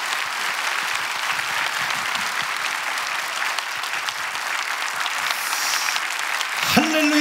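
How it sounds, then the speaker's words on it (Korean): A church congregation at a dedication service applauds warmly to welcome a pastor, a sustained, even roar of clapping from a large crowd, ending with a brief tonal sound at the close. "여러분 뜨거운 박수로"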